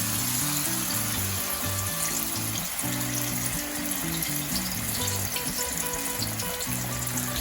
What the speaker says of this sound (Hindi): तो यहाँ पे मैं इसको थोड़ा सा क्रिस्पी होने तक, गोल्डन और क्रिस्पी कलर आने तक इसको मैं फ्राई करूंगी